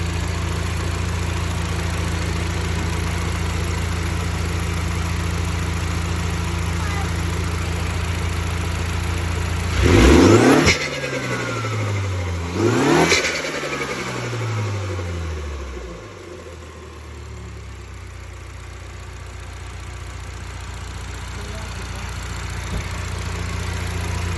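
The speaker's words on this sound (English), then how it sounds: "That's the intake on regular mode. We'll put it in sport mode." A car engine with a straight race exhaust idles steadily, then two sharp revs in sport mode roar up and fall back a few seconds apart before it settles into idle again.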